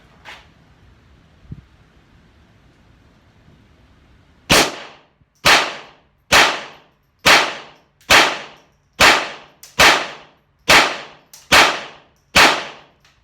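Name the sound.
Ruger LCP II .22LR pistol firing 40 grain rounds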